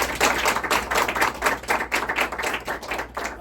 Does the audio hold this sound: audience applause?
yes